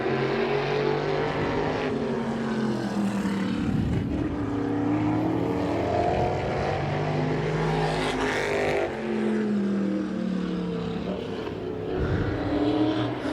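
Race car on a time trial lap at Claremont Motorsports Park, its engine roaring loud and steady as it passes, pitch rising and falling through the corners, with no talk.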